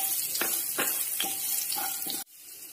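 Chili powder and green chilies stirred in a sizzling frying pan while cooking sev tamatar curry: steady frying hiss with several rhythmic scraping stirs of a spoon, ending in a sudden drop to quieter sizzle.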